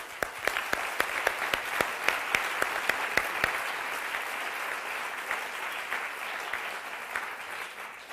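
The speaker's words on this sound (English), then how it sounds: "So I would like you to join me in giving Madame Torango a round of applause." An audience gives sustained applause for Elizabeth Torango at an evening gathering. The clapping is dense and even at first, then thins and softens toward the end, with no talking over it.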